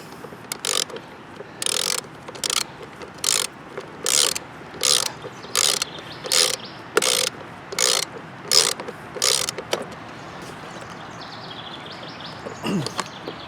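A hand ratchet tightens the drive wheel on a self-propelled lawn mower, giving a steady series of about twelve loud, evenly spaced clicking bursts before falling quiet, with a faint thump near the end.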